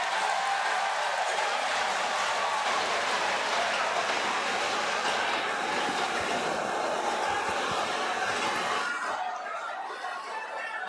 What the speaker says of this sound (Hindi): आप जोरदार तालियों के साथ स्वागत करें